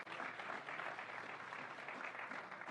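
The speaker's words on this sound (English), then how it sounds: "You know, Kinga, round of applause." Steady applause from a crowd at a hospital groundbreaking ceremony, a continuous wash of clapping that holds at an even level without pause.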